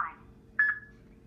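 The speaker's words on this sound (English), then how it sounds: "After the beep, you'll have 30 seconds to record your greeting." A single short voicemail recording beep, clear and fairly quiet, follows a brief faint tone, then near silence.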